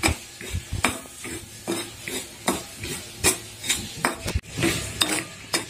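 Semolina roasting dry in a pan, stirred continuously with a utensil that scrapes and knocks against the metal in a steady, uneven rhythm, close and fairly quiet.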